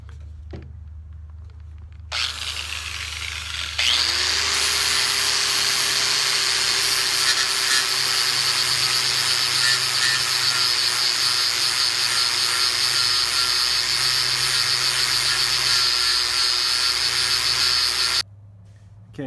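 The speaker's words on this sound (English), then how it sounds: "so now we're just going to grind down these 3 rivet heads that hold the hub" Power grinder cutting down the rivet heads that hold the hub to a brake drum on a 1947-59 Chevrolet or GMC truck, a loud high whine that spins up and holds steady for about fifteen seconds before cutting off.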